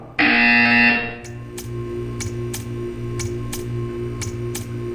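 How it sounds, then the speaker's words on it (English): In a Portal 2 test chamber a loud harsh buzzer blares for about a second, then a quieter ticking follows in an even, regular rhythm. "You will hear a buzzer."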